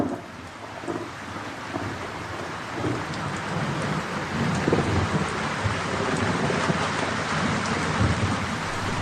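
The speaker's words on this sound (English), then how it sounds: "the ancient mariner is refreshed with rain." Steady heavy rain falling with rumbling thunder in an animated telling of The Rime of the Ancient Mariner, a dense continuous downpour with low rolls underneath, no voices.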